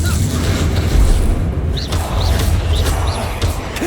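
Confringo blasting spell explosions in Hogwarts Legacy, a loud continuous roar of booming blasts with bright crackling bursts scattered on top, recurring throughout without any talk.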